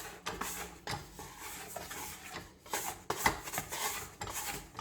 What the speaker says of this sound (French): Et là, on va gratter bien la cuve.